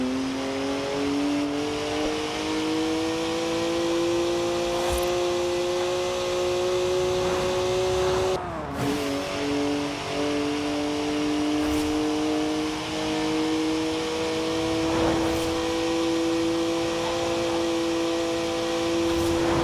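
A BMW car engine drives steadily in Forza Horizon 4, holding a sustained, loud drone with clear harmonic tones through the whole stretch, dipping briefly as the gear shifts midway before pulling on again.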